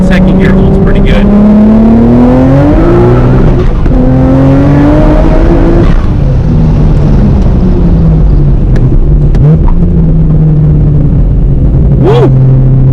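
A car accelerates hard in second gear on a dusty drive, the engine rising in pitch as it revs out, loud and close, with a person talking over it.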